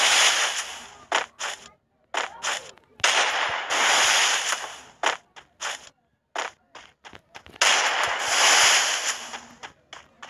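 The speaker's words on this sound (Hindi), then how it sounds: "भाई कितने शॉट एक साथ चला रहा है तू?" Rapid gunfire rattles in a shooting video game, coming in dense, loud bursts broken by short gaps over several seconds, with no voices.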